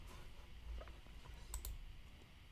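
Quiet, close computer mouse clicks while playing DC Worlds Collide: a few soft taps and then a crisp double click, sparse and irregular, over a faint low hum.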